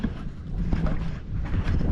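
Wind blowing outdoors by the sea, heard as a close, buffeting rumble against the microphone, steady with gusty swells throughout.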